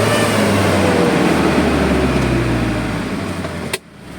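A Mitsubishi Canter truck with a 4M51 diesel engine, freshly overhauled, running loud and close with a steady broadband roar, easing slightly before a sharp clunk and a sudden drop near the end.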